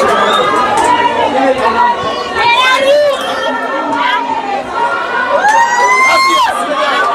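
A football crowd at a Namibian league match between African Stars and Okakarara cheers and chants, with loud whoops, shouts and rising voices overlapping in a dense, continuous roar from the stands.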